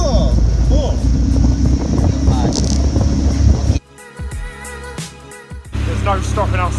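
Small cruise boat engine chugging along at about 8 mph, a steady low rumble with wind noise on the mic, briefly dropping quieter before returning; people talk over it.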